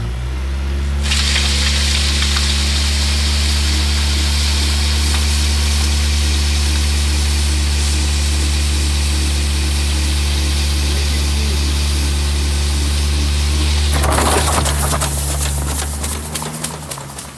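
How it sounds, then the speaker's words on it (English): Vehicle engine roaring at high revs during a rear-wheel burnout before rolling over road spikes, a loud, sustained droning rumble close by that shifts abruptly near the end into rougher, noisier grinding as it eases off. "we'll have Anthony burn out that back wheel and then go right over that and see if we can shred a tire"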